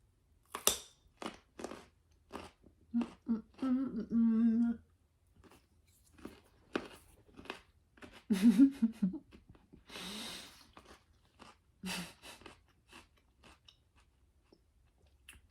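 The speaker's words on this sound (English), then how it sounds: "which veggie am I chewing right now?" Someone chews a raw vegetable such as cauliflower or carrot close to the microphone, with scattered crunchy bites and chewing bursts separated by quiet pauses and occasional breaths.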